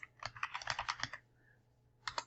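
Typing on a computer keyboard: a quick run of about a dozen crisp key clicks, a short pause, then two or three more taps, close and clear in a quiet room.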